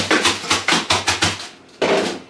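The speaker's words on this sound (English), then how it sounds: "let's get out our ice hammer and beat the hell out of the ice" An ice hammer pounds ice in a bag, with a rapid series of about six sharp, loud blows followed by a brief pause and one more heavy strike, close to the microphone and with no talk.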